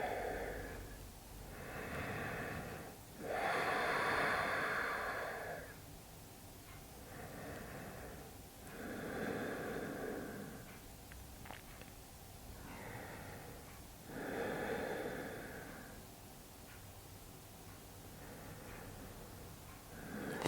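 Slow, deep breaths during a yoga stretch, each soft airy inhale and exhale rising and falling in a steady rhythm of roughly four-second cycles, close and quiet with no talking.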